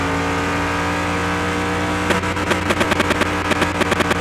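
Plymouth Road Runner in Car Mechanic Simulator 2021 accelerating toward top speed on racing slicks: a steady loud engine drone with rising harmonics, then a rapid series of sharp regular pulses as it strains hard, no talking.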